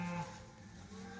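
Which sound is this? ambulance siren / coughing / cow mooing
cow mooing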